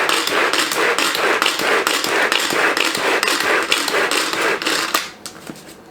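Salmon patty mix is finely chopped by a manual food chopper, a rapid train of close, loud chopping thuds repeating steadily for about five seconds before easing into quieter scattered taps.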